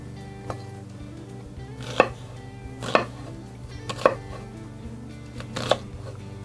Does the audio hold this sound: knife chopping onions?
yes